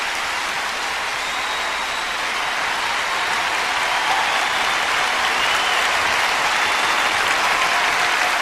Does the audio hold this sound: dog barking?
no